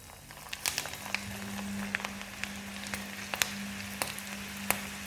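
Okra frying in hot oil, a soft steady sizzle with scattered faint pops and crackles, close but quiet, no talking.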